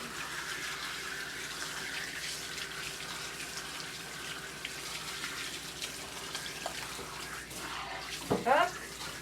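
A hand-held nozzle sprays water in a steady hiss while a dog is bathed at a grooming session, continuous and close, with a brief clunk near the end.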